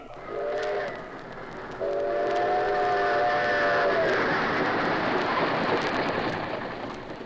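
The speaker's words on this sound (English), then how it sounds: "great trains rush toward the Hudson River" Radio-show sound effect of a train rushing along rails toward Grand Central Station: a loud, steady roar of rolling wheels with sustained whistle tones layered over the first half, fading slightly at the end.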